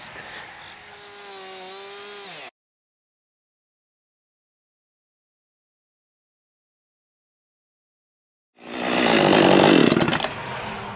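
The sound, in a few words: chainsaw cutting log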